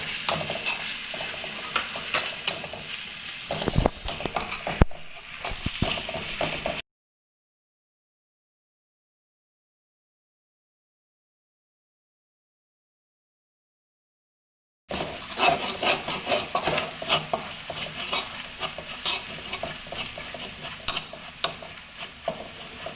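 Galangal, kencur and candlenut stir-fry in a pan with a steady close sizzle and scraping stirs, broken by a long silent stretch midway before the frying resumes.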